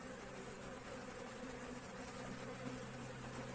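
Honeybees buzz at a strong hive during winter feeding with dry sugar, a steady, faint, droning hum holding evenly throughout with no voices.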